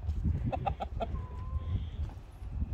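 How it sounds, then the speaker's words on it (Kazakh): A red rooster, one of two kept at a rural home, gives a short burst of clucking calls up close, a quick run of repeated notes followed by quieter farmyard background. "Бізде екі әтеш бар ғой, мына қызыл әтеш."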